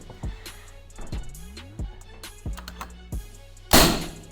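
A series of sharp, low thumps from a Predator Big Game AFC Bandit BJR 88 air rifle firing, about five shots spaced roughly a second apart, followed by a louder burst at the end.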